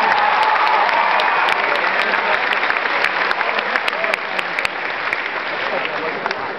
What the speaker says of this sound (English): Let's give you all a round of applause for getting here.